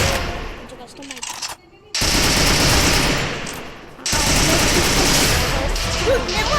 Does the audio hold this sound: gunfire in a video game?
yes